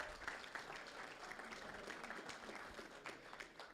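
Audience applause fills a meeting room as a board president is called up to the stage, with steady, dense clapping from a crowd holding at an even level throughout.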